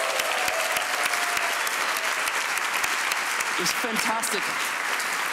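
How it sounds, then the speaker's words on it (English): A conference audience at a JavaScript event gives a steady round of applause that fills the room, with a voice briefly speaking over it near the end. "so I just like a round of applause."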